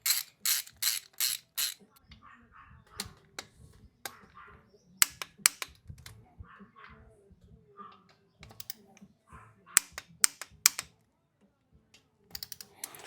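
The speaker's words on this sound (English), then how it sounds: "These all get torqued at 115 inch pounds as well." A torque wrench tightens 1/4-20 bolts to 115 inch-pounds on a 2006 Harley-Davidson Dyna, heard as close, sharp bursts of rapid ratchet clicking separated by quiet gaps and faint handling noise.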